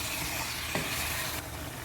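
Chicken pieces fry in a pan with a steady, dense sizzle, loud and close throughout, easing slightly near the end, with no talking.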